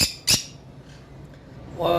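A sharp bird squawk cuts in near the start, with another rising call at the end, over quiet background.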